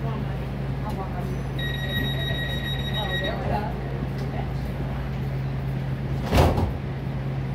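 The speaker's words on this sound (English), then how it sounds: "Please stand clear. The doors are closing." Doors-closing chime of a Los Angeles Metro E Line train at Expo/Bundy station: a short multi-tone chime over a steady low hum of the waiting train, followed later by a brief dull thump.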